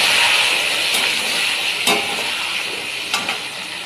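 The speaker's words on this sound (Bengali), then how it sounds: "এবার আলুটা দিয়ে একটু ভেজে নেব।" Potato pieces fry in a pan with hot oil and panch phoron, giving a steady, close sizzling hiss throughout, with a few soft clicks of stirring and no voices.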